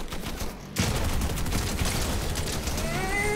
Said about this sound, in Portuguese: Eu tô com a metralhadora leve.